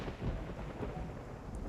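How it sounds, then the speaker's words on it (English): A single clap of thunder in a storm, a brief rumbling boom with soft rain hiss beneath, heard at a moderate distance with no voices. "Soaked to the bone, Xavier trudges in and is followed by a single clap of thunder."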